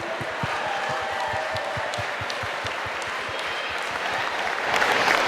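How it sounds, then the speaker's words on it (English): Crowd applause for volunteers at an outdoor university charity walk and run, a broad steady wash of clapping with a few sharper claps standing out and a light swell of cheering near the end. "Let's give a round of applause for our volunteers"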